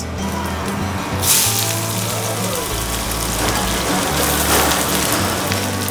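Onion slices dropped into hot oil with bay leaves for mutton, a loud, steady sizzling hiss that swells after a sudden burst and carries on without pause.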